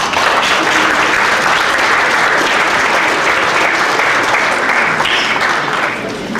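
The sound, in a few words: applause at law congress for speaker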